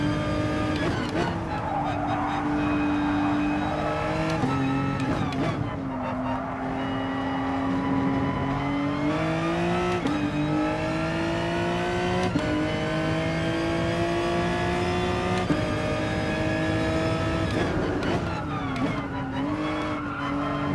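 Race cars on track in Gran Turismo Sport during an FIA Nations Cup online race, a close engine whining and rising through gear changes for about twenty seconds, with tire squeal and brief deceleration dips.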